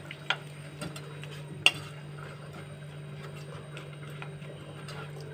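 A fish egg snack mixture with salt is stirred in a bowl, giving faint, steady scraping and ticking sounds with a few sharper clinks against a quiet background hum.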